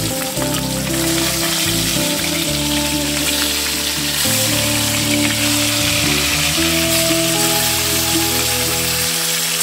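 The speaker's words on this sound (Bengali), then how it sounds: "এই যে মাছগুলি কিন্তু ভাজা হয়ে গেছে, ভালো করে লাল লাল করে কিন্তু ভাজা হয়েছে।" Rohu fish pieces frying in oil in a wok, a loud, dense, rain-like sizzle that never lets up, with a low steady hum from the stove underneath and no talking.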